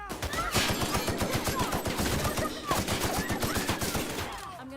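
Sustained automatic gunfire from a firefight in the video game The Outer Worlds, rapid dense bursts of shots filling the whole stretch at steady loudness with no talk.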